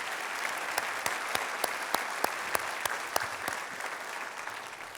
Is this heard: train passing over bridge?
no